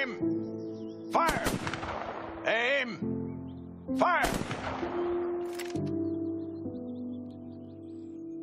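Gunfire in the video game A Way Out comes as sharp bursts between stretches of loud, shouted voices, with the shots fairly close and the talk dominating much of the time.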